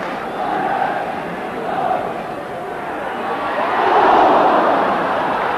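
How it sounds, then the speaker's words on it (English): A 1978 football stadium crowd roars encouragement for Wolves against Manchester United, a broad sustained noise that swells louder near the end, with a commentator's voice running over it. "crowd giving Wolves the encouragement they need"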